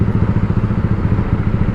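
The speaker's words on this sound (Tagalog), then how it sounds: "Tunog big bike na siya" A Motor Star 250 motorcycle engine with a deep, throbbing exhaust pulse like a big bike, rumbling steadily and close by.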